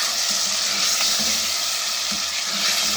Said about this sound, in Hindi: तो अब इसमें हम 3 चौक टमाटर ये ऐड करके फिर इसको भूनेंगे।